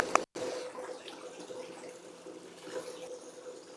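Water flows outdoors as a faint, steady trickling wash under low ambient background noise, briefly cut out near the start.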